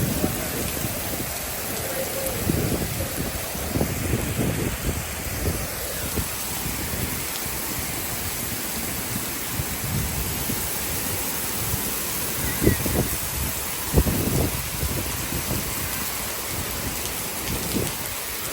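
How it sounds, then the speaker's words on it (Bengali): Heavy rain lashes down in Singapore, driven and swirled by strong storm winds, as a steady dense roar with gusting swells and scattered louder bursts. "বৃষ্টিটা হচ্ছে এলোমেলো বৃষ্টি, ঘুরতেছে বাতাসের কারণে"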